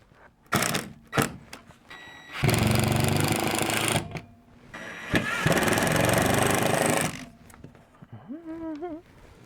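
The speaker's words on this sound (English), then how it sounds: "I am going to use my little impact drill" Small impact drill driving screws while building custom office shelves: several short buzzing bursts, then two long loud whirring runs with hammering chatter, close up, followed by a brief voice.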